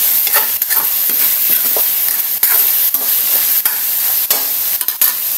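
Garlic, onion, carrots and potatoes sauté in a pan for a simple vegetable stir-fry, giving a loud, steady sizzle punctuated by sharp, irregular spatula scrapes and clicks, close up with no talking.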